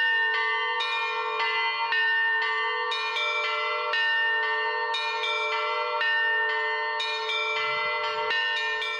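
Valdai bells from Russia's Novgorod region ring steadily on their own, clear bright tones struck in a continuous, overlapping pattern with a lingering metallic shimmer.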